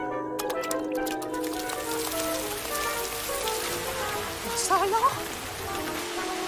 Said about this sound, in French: ce serait bien si la pluie tombait là où on